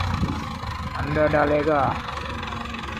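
A tractor loading sand into a trolley runs with a low, continuous engine rumble at moderate distance, and someone talks over it for about a second in the middle.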